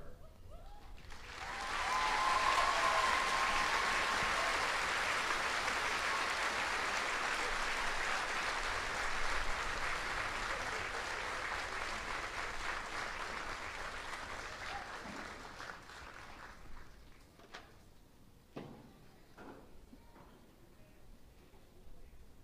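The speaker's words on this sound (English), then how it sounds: "Please join me in another round of applause for our retirees and their families." Sustained audience applause at a US Army graduation ceremony at Fort Jackson, rising quickly, holding steady and loud for about fifteen seconds, then thinning into scattered claps as it fades.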